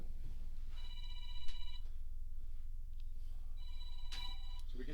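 A phone rings in a quiet room during a brewery conversation, two bursts of a bright electronic ringtone separated by a pause, over a low background rumble.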